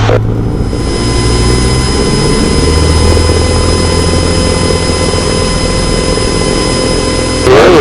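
A Cessna 150's engine at throttle-up on a soft grass runway, a loud steady drone with propeller buzz heard from the cockpit, continuous throughout.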